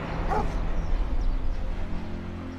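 Dog barking and whimpering, a dense run of close, loud yips and whines over a low rumble, continuous for the whole stretch.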